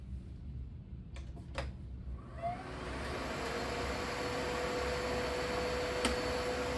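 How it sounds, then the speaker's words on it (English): A Miele Complete C3 Homecare vacuum cleaner with an SEB 228 power head starts up after a couple of clicks, its motor rising into a steady, fairly quiet whooshing hum with a faint high whine. "now we will test the vacuum with its SEB 228 power head"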